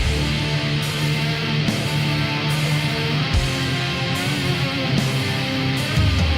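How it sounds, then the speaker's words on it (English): Dense, distorted black metal playing continuously: harsh wall-of-noise guitars over rapid, pounding drums, loud and relentless with no vocals standing out. "It's definitely black metal,"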